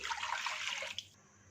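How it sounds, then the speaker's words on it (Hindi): Tamarind water poured from a container into a pan for street-style Kathiawari cholay, a steady close splashing pour for about a second that stops abruptly, leaving only faint room noise. "पानी को पैन में शामिल कर देते हैं"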